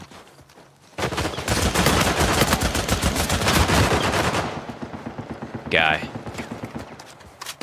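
Gunshots in Uncharted 4 multiplayer: a sudden, loud run of rapid automatic fire lasting about four seconds, then a short voice and a brief final burst, all close and harsh.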